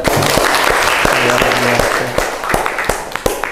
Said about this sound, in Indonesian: tepuk tangan untuk Alida